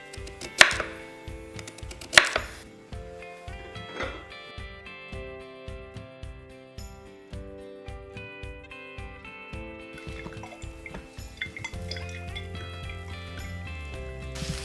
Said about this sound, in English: Chopping some garlic